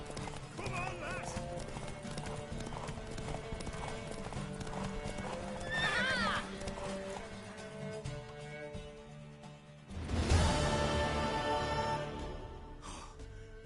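In a PS4 video game, a horse neighs and its hooves clip-clop steadily. A louder whinny comes partway through, with game voices and music underneath.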